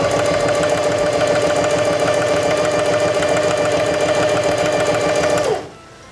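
A Heavy Duty 4411 sewing machine stitches a seam in one loud, steady run of fast needle chatter and motor whine, stopping abruptly near the end and leaving quiet.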